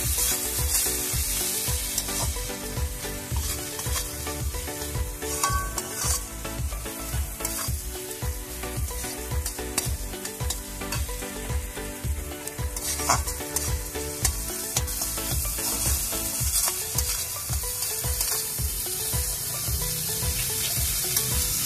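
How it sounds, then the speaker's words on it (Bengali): Tomato masala with ground cumin fries in a pan for egg tadka, a steady sizzle broken by regular, rhythmic scraping strokes of a spoon stirring close up, with no talking. "ভালো করে ভাজতে হবে যতক্ষণ না টমেটোটা মিশে যাচ্ছে।"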